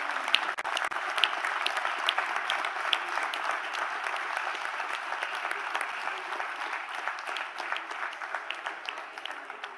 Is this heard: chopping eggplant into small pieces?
no